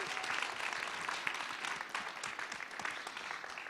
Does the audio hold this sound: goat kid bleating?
no